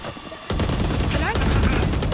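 Loud, rapid bursts of gunfire erupt in the Valorant shooter game after a brief quieter lead-in and keep going densely, with faint voices mixed underneath.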